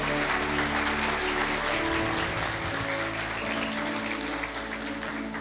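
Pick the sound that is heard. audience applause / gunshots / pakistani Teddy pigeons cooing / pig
audience applause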